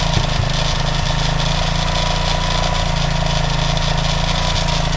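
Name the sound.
Honda CTX200 frame with 230 engine swap idling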